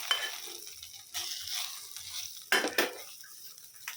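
Cashews are stirred into tomato pongal rice in a pot after the stove is off. A spoon scrapes and clinks against the pan in short, soft bursts, with a faint sizzle between them and no speech.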